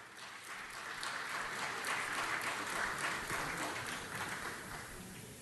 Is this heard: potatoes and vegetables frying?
no